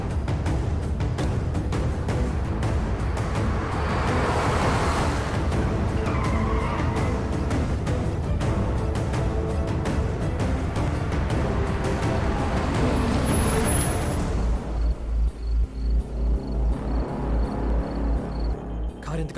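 A car drives fast and skids, with loud tyre and engine noise surging throughout before settling into a rhythmic idling chug near the end.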